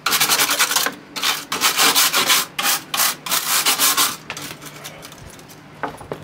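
A flat screwdriver scrapes and pokes through the vent holes of a GE dryer door, rapid rasping strokes close up and fairly loud, pausing briefly, with no talking.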